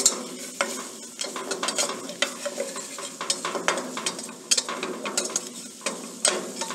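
Spoon scraping and stirring a flour roux in a pan for tomato sauce over low heat, a busy run of close, irregular scrapes and clicks with a soft sizzle underneath.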